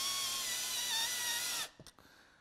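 A power drill runs at a steady whine, slowly driving small screws into MDF, then stops abruptly, leaving a few light clicks and handling sounds.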